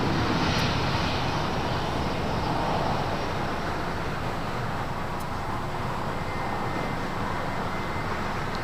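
An American Airlines A321 airliner taxis off the runway at LAX, its jet engines producing a loud, steady roar and hiss that holds constant throughout with no voices.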